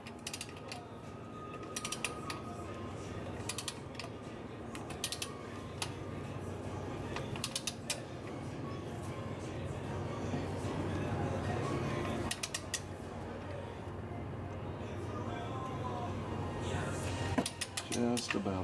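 Torque wrench set to 13 pound-foot tightening bolts on a Cadillac Escalade, with repeated ratcheting clicks and mechanical creaks close by across the whole stretch, under occasional voices.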